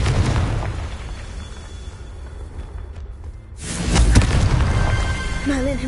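A Confringo blasting curse explodes in the game Hogwarts Legacy, a loud booming burst with a roaring, rumbling tail and a second surge partway through, sustained and heavy at close range.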